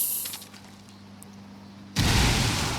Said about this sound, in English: See how explosion goes.